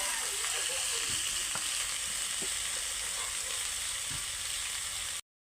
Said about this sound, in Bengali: আমরা টমেটো দিয়ে দিচ্ছি